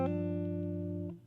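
Plucked guitar strings in a short chord pattern from a song, a sustained ringing note mix that fades near the end, close and without talk.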